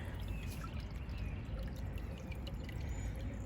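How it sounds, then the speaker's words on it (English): Water flowing steadily after a storm, a continuous broadband wash with faint trickling, near and fairly quiet throughout. "Water's flowing."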